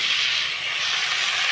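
Pumpkin pieces dropped into frying spices give a steady, close hiss of sizzling oil with no pauses, and no one talks over it.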